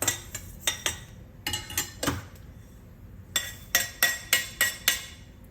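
Roasted rice goes into a pan for black urad dal porridge, bringing repeated metallic scrapes and clinks of a spoon against the pan in short bursts, close up, with a pause midway and no talking.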